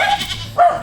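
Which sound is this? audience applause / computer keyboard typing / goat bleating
goat bleating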